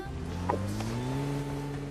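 A vehicle's engine drones steadily in PUBG Mobile Lite, its pitch rising slowly as it pulls away, with a faint thump near the start.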